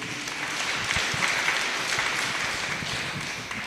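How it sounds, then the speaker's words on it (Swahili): Church congregation at a Gikuyu service applauding visitors, a dense sustained burst of many hands clapping, loud and even throughout with no voices standing out. "tuwapigie makofi mzuri"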